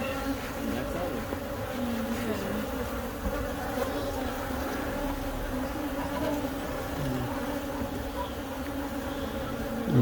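Swarm of bees buzzing steadily during a bee removal from a tree outdoors, a dense continuous drone close to the microphone with no talk.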